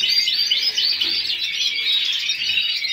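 Dense, high-pitched bird chirping and trilling continues without pause, bright and fairly close.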